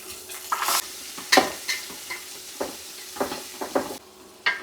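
Mustard seeds, fenugreek, onion and garlic fry in oil while a spoon stirs, giving intermittent sharp scrapes and spatters over a soft sizzle, close and fairly quiet with no voices.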